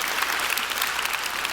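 An audience at a school #MeToo talk breaks into loud, dense applause, a steady wash of many hands clapping together with no voices over it.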